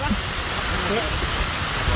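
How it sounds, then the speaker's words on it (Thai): Rain beginning to fall outdoors by a fish pond, a steady soft hiss of drops across the whole stretch, fairly faint and even with no clear talk. "ฝนลงเม็ดแล้วฝนลงเม็ดแล้ว"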